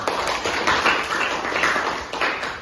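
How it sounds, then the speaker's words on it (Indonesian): A group claps together in a brisk, continuous burst of applause, fairly close and loud, with no talking over it. "Tepuk tangan dulu."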